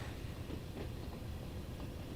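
Simulated freight train hauling empty oil tankers on the Trans Pennine route from Leeds to Manchester in Train Sim World 2, a steady low rumble of wagons rolling along the rails with no talk.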